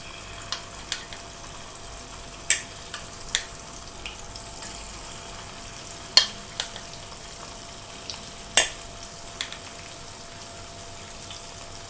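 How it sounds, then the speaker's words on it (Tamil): Small chicken pieces deep-frying in oil for orange chicken make a steady, fairly quiet sizzle, broken by a few sharp pops and crackles spread across the span, with no talking. "இது நல்லா மொறுமொறுன்னு கொஞ்சம் கோல்டன் ப்ரௌன் கலர் வர வரைக்கும் நம்ம போட்டு பொரிச்சு எடுக்கணும்"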